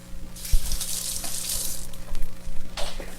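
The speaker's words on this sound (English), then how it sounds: "I'm gonna rinse my hands." Tap water runs steadily into a kitchen sink as hands are rinsed, a broad close hiss rising and falling over about three seconds with a low hum beneath.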